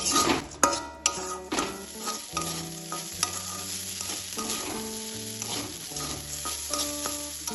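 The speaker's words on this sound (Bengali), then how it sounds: "আমি 2 মিনিট মতো মশলার সাথে চালটা ভালোভাবে কষিয়ে নিয়েছি" Rice fries with ground spices in a pan, sizzling steadily while a spoon stirs and clinks against the metal in repeated scrapes and knocks, close and loud, no voices.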